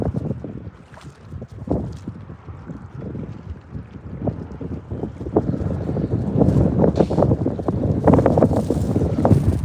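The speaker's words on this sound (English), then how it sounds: "This wind's kicking my ass." Strong wind gusting over open water during late-night fishing, a steady roar with heavy microphone buffeting that builds louder toward the end, no talking.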